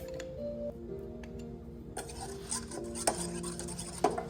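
Focaccia dough with honey being stirred and mixed, a soft, irregular scraping and tapping that grows busier midway, with several sharper clinks of utensil on bowl near the end.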